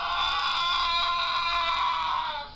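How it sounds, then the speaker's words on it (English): A loud, sustained screaming sound effect, a harsh wavering cry that holds steady for about two seconds before tapering off. "you hear a rather loud screaming"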